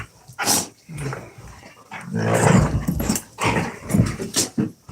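Duchess the dog growls and yips during rough play, a run of close, loud grumbling growls and short bursts with brief pauses between them, and no talk over it.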